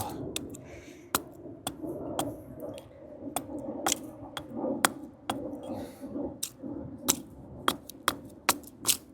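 A Fiskars X7 hatchet splitting small pieces of kindling, giving a string of sharp, close wooden cracks and chops at an irregular pace, about a dozen hits over faint background noise with no talk.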